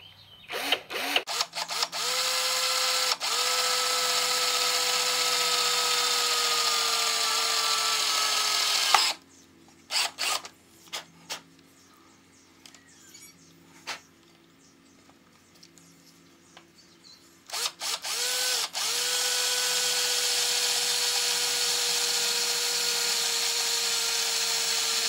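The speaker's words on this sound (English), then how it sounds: "I'll drill it out." A drill runs steadily while a part for a 12.5 hp Briggs & Stratton engine is drilled out, with a long continuous whine that breaks into short stop-start bursts and quiet gaps midway, then resumes steadily. No one speaks.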